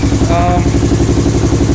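A rebuilt Honda 350 motorcycle engine idles close by after a short shakedown run, a loud, even, rapid throb with a steady pulse that holds for the whole moment.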